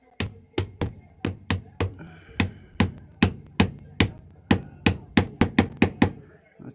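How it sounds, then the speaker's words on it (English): A series of sharp hammer taps on metal, about twenty blows in an uneven rhythm that quickens toward the end, close and clear with no talking. "I'll tap that down a bit"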